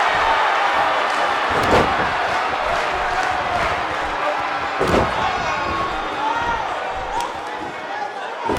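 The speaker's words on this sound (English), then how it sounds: "Incredible. incredible backbreaker." A backbreaker slam lands in a wrestling match at an N.E.W. show, with two sharp impacts standing out over a constant loud crowd roar and commentary.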